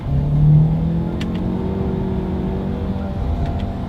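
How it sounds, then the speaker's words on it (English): A 2020 Lincoln Nautilus SUV engine revs up loudly during a paddle shifter test, then holds a steady, droning whir with rising and falling pitch from inside the cabin. "Let's do a quick little paddle shifter test here, and let's see how quickly they react for us."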